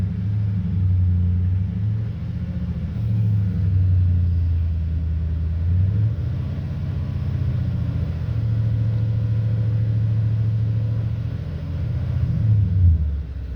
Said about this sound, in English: So I'll give you a couple exhaust sounds.